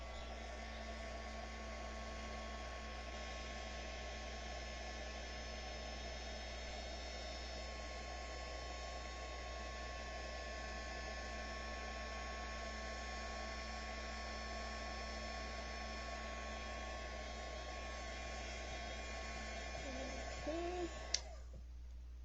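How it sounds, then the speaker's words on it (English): A heat emboss tool blows hot air in a steady, even, whining hum close by. It runs unbroken for about twenty seconds, then a brief clatter comes near the end. "Heat emboss tool again, bear with me through the noise."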